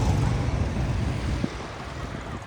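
Steady cold wind rushes loudly and continuously in a village in Morocco, a broad low roar with no voices.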